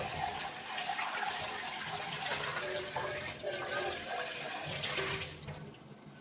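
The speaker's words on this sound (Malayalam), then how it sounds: "ചായപാത്രം കഴുകി വെച്ചു" A tea pot being washed under a running kitchen tap, with steady loud water splashing throughout and a drop in level near the end.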